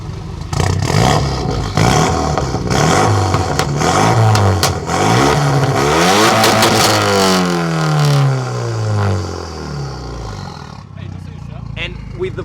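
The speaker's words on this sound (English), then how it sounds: "Sound check on the Megane" A Renault Megane engine revs hard and loud, rising and falling in pitch through several sweeps before settling back near the end, with voices faintly underneath.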